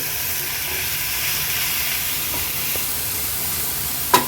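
Washed baby shrimp sautéing in a pan, a steady loud hiss of sizzling throughout, with a sharp utensil clink near the end and no speech.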